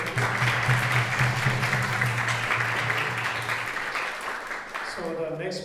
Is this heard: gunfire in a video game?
no